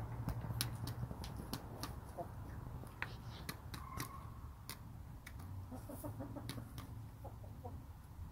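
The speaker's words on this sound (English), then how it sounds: "only the sounds of the chickens" Backyard chickens cluck softly at close range over steady outdoor background noise, with short clucks and scattered sharp clicks and pecking taps spread irregularly throughout, and no talk.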